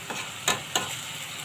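Chicken and pasta are stir-fried in a pan over high heat, a steady soft sizzle broken by three quick scraping strokes of the spatula, close and fairly quiet.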